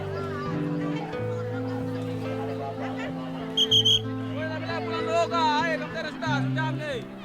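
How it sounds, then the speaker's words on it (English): A whistle signals the start of bartering at a long-standing riverside market where corn, bananas and manioc are traded for fish. It sounds as a brief shrill burst, high above steady music and crowd chatter. "a whistle marks the start of the bartering."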